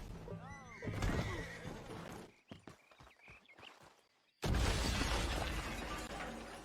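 A horse whinnies in a video game: a high, wavering neigh up close, followed by clattering knocks and then a sudden burst of loud, broad noise.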